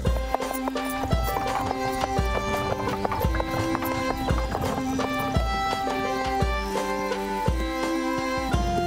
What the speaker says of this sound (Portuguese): Um cavalo está arando sozinho.